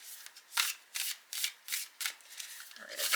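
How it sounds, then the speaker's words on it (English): A chunky deck of cards riffle shuffled by hand, with about six rhythmic bursts of fluttering card noise, close and fairly loud, and no talk. "I don't know why I'm attempting to really riffle this chunky deck."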